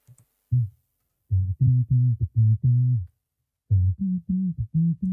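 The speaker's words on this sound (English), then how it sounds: "what the R bass is doing is giving us extra low end information" Deep bass notes with extra low end added at 75 hertz by an R bass plugin pulse in short, even phrases, loud and thick with a humming, tonal body, separated by brief silences.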